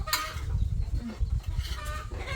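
Farmyard chickens cluck close by in a busy outdoor setting with a low rumbling background, the calls repeating irregularly across the short stretch.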